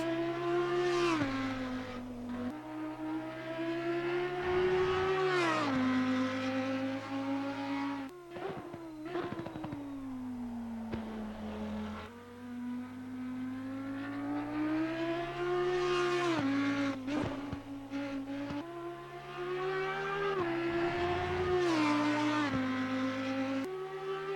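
Audi Evo GT3 race car in Assetto Corsa Competizione at Spa, its engine rising through repeated gear upshifts in long accelerating pulls, with brief drops under braking, loud and steady without talk.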